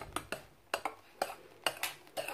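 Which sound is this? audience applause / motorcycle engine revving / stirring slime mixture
stirring slime mixture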